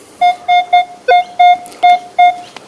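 A Minelab Equinox 800 metal detector emits a series of short, even electronic tones over a gold ring, about seven pulses in a steady rhythm, loud and close, ending with a couple of faint clicks.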